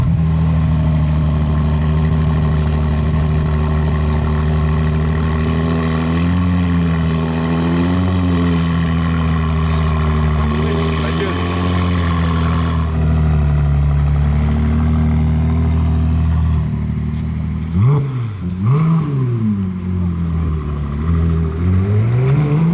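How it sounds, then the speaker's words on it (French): A Ferrari 296 sports car engine drones loud and close, holding a steady, throaty note that swells and dips, then changes abruptly and climbs through sharp revs near the end. "Et la 296 qui va démarrer en face."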